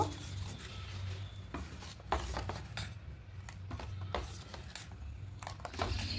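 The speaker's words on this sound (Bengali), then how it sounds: "দিয়ে আবারও খুব ভালো করে মিশিয়ে নেব" Batter stirred in a bowl after baking soda is mixed in for an oil-free breakfast, with soft repeated scraping and rubbing strokes, close and quiet, irregular in rhythm, no talk.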